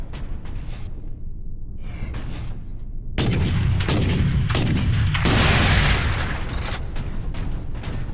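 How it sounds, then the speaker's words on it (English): A missile launcher firing in the Warhammer 40k: Space Marine game, a series of sharp blasts and heavy booms over a rumbling battle backdrop, loud and close, with no speech. "Missile launcher."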